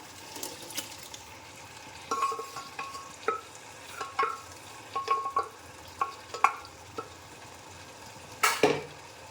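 Beef stirred into thick, reduced masala frying in a pan for beef biryani: scattered spoon scrapes and clatters over a soft, steady sizzle, close and fairly quiet, with a sharper burst of scraping near the end.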